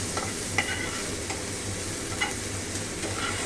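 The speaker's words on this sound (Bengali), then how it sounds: "পেঁয়াজ দিয়ে বাটারকে একটু নেড়ে চেড়ে নিচ্ছি।" Chopped onion stirred in melted butter in a pan, a steady soft sizzle with light scraping strokes of the spoon, close up and alone.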